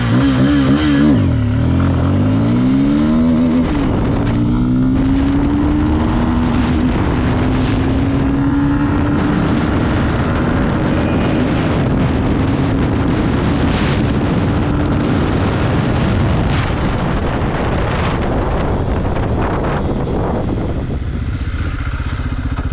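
Bajaj Pulsar 250 motorcycle accelerating hard in first gear, a loud close engine roar climbing steadily in pitch as revs build, with wind rush over the full run.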